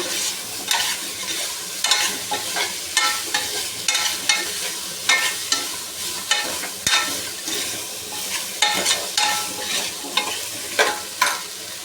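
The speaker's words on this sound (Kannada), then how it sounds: "1-2 ನಿಮಿಷ ಇದು ಕೂಡ ಫ್ರೈ ಮಾಡ್ಕೊಳ್ಳೋಣ ಆಲೂಗೆಡ್ಡೆ ಬದನೆಕಾಯಿನ" Potatoes and eggplant fry in a pan for a Mandya-style sprouted-bean sambar, a steady loud sizzle broken by repeated rhythmic scraping strokes of stirring, close up with no talking.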